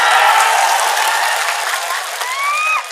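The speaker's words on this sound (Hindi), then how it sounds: "और एक बार चाहता हूं कि एक बार आप अपने लिए ताली बजाएं।" Crowd at a political rally claps loudly for themselves, a dense wash of applause with some cheering and a whistle rising near the end before tapering off.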